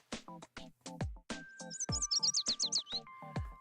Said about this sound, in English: The music of birds playing and chirping joyfully.